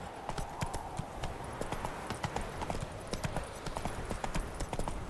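Horse hooves in The Witcher 3, a rapid, even clip-clop of galloping steps on hard ground, close and continuous, with the rider's command spoken over the start.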